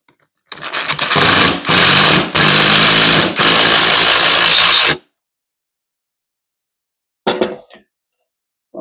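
A power driver sinks lag bolts into a wall for a bedroom TV wall mount, with a loud, continuous whirring run broken by brief pauses over about four seconds, followed by silence and then a short final burst.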